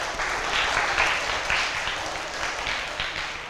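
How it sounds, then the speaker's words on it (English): Steady applause from a school audience in a primary school classroom after a child storyteller finishes, a dense patter of clapping hands lasting a few seconds at even strength. "a round of applause for you"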